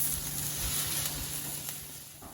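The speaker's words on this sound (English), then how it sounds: "I fry the onions until it comes out looking like this" Onions fry in a pan with a soft, continuous sizzle and faint crackle that stays steady and close, fading slightly at the end.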